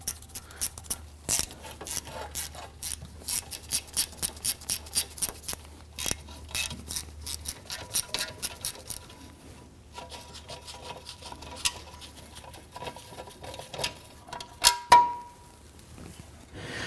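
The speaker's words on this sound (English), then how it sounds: "there are 3 8mm bolts, one here, and here. Let's go ahead and loosen and remove these." Ratchet wrench loosening 8mm bolts on a Ford Explorer Interceptor rear brake dust shield, rapid close clicking bursts in repeated runs with brief pauses and a few metallic clanks near the end.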